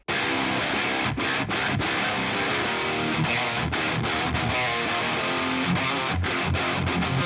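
Dual-tracked heavy metal guitars run through complementary impulse responses grind out a dense, distorted riff, loud and continuous, with brief palm-muted stops punctuating the wall of sound.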